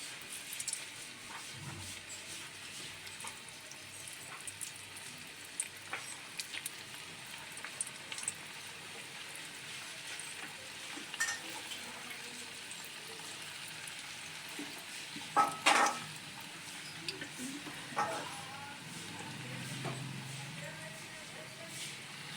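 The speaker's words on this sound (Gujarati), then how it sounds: "હવે ધીમે ધીમે એકદમ ધીમી ગેસે આપણે તળાવવા દેવાના છે." Bhakharvadi pieces deep-frying in hot oil over a low flame, a faint steady sizzle with occasional soft crackles and a few brief clatters, no talking.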